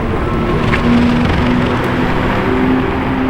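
A V12-engined supercar heard as a loud, close engine drone with a steady tonal hum and brief rising pitch notes, no voices over it.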